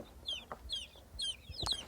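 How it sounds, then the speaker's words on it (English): A Leghorn chicken clucking close by in short repeated calls, several in quick succession with small scratchy thumps in between. "this is just your typical leghorn chicken"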